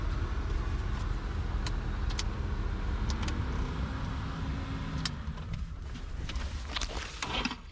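An old abandoned tow truck engine running after decades of sitting, a steady close rumble that holds evenly throughout, with a few light clicks and rattles toward the end.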